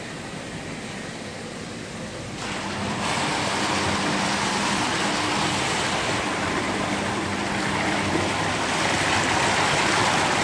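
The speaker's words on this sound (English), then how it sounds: "let's fire up this machine. Just show you how turbulent it can be" A rug-washing soak tank machine fires up with a steady, turbulent rush of churning water that grows louder after a couple of seconds and then holds at a constant roar.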